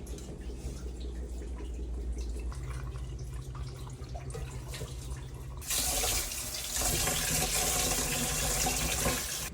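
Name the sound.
water poured out of rice pot while washing rice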